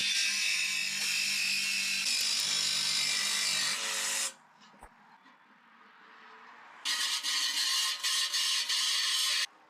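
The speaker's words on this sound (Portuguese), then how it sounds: "use uma lâmina de corte para metal na serra tico-tico" A jigsaw fitted with a metal-cutting blade cuts a 125 mm flange. The harsh, close buzzing runs for about four seconds, stops for a quiet gap, then resumes in short repeated bursts.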